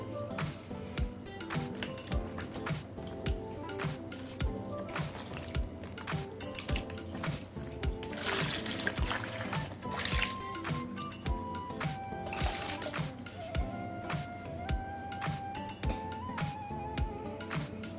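Distilled water pours and splashes into a small tub for a sustained stretch, with bright drips and a rising filling tone near the end.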